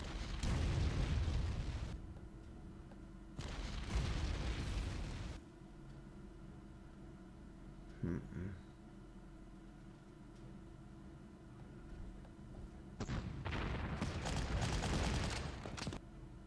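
Heavy booming artillery blasts in the World War II strategy game Panzer Corps, set in a Greece scenario: loud rumbling bursts of several seconds each, then a quieter stretch with a brief thump before another long roaring barrage.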